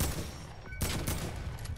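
Rapid bursts of gunfire from the Fortnite video game rattle loudly and continuously, with dense overlapping shots and a brief dip before the firing surges again.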